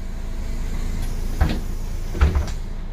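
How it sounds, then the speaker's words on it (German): Inward-swinging passenger doors on a MAN A20 city bus open with two distinct mechanical thumps, close by, over a low steady hum. "das sind Innenschwenktüren. Die gehen nach innen hin auf."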